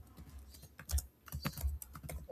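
Typing on a computer keyboard while filling in an online application form for the Apna Khet Apna Rozgar scheme: quick, uneven bursts of soft key clicks and thumps, close and quiet, with no talking.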